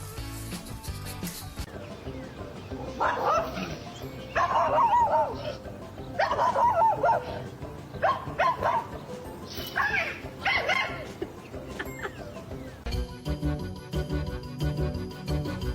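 A puppy barks and whimpers in a series of close, high yipping bursts separated by short pauses, over quiet background noise.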